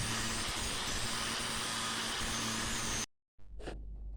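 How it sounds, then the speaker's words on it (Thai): A battery-powered angle grinder fitted with a metal-cutting disc whines steadily for about three seconds while cutting plastic pipe, then cuts out abruptly, followed by a brief scrape and softer handling noise. "ผมใช้ลูกหมูแบตเตอรี่ใส่ใบตัดเหล็กเอามาตัดท่อ"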